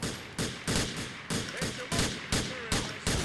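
Rapid gunfire from Grand Theft Auto 4, about eight loud, evenly spaced shots in quick succession, each with a short ringing tail, close and with no voices over it.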